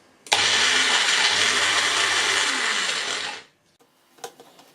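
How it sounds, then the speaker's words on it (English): A food processor blitzes basil pesto in one loud, high-pitched whirring burst of about three seconds that cuts off sharply, followed by faint clicks and handling noise. "pop that onto the machine, blitz that down and see what we've got"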